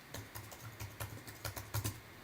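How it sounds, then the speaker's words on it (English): Quick, light keystrokes on a computer keyboard tap out a short irregular run, quiet and close with no talking. "So I'm just going to click here and type"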